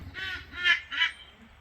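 Ducks quacking in a barnyard on a farm, three loud nasal quacks in quick succession close by, with no talk over them.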